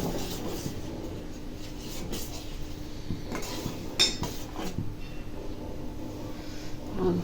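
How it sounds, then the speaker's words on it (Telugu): Semolina for kesari is stirred in a pan with a spoon, giving soft, irregular scraping and light clinks of metal, close and quiet, with one sharper tap midway and no talking. "రవ్వ అనేది ఉండలు కట్టకుండా కలుపుకోవాలండి, మళ్ళీ కింద అడుగంటకుండా కలుపుకోవాలి"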